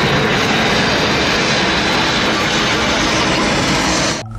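A constant, loud roaring toy airplane engine whoosh fills the whole stretch, then drops off sharply at the very end.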